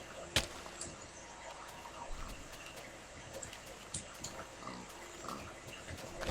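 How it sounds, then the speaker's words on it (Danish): Pig grunting in Minecraft, a few short grunts over a busy game background. "Der er gris."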